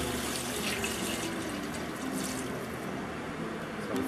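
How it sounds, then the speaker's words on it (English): Water running from a tap into a bowl in a home kitchen, a soft continuous splashing and trickle heard close but fairly quiet, with no talking. "just add some water to that"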